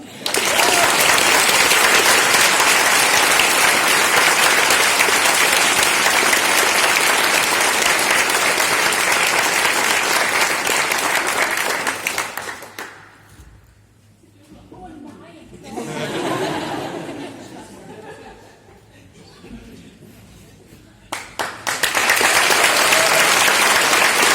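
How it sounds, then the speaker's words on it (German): A graduation ceremony audience applauds in a loud, dense wash of clapping for about twelve seconds, then it drops away while a voice speaks and a few laughs rise, before clapping swells again near the end. "Ein Applaus bitte"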